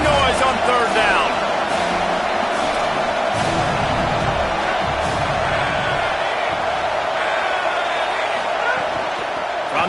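Football stadium crowd roaring on third down, a dense, loud wall of cheering and shouting that fills the whole stretch, with an announcer talking over it.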